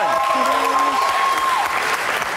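A studio audience claps for Bashir in a steady, dense round of applause, with a sustained tonal sound and some voices mixed in over the clapping.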